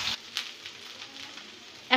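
Potatoes frying in hot oil in a wok, lightly salted, giving a soft steady sizzle with a few louder crackles at the start and end, no voices.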